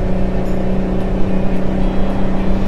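A truck engine in American Truck Simulator drones loud and steady with a deep, constant hum and low rumble, holding an even pitch throughout with no voices over it.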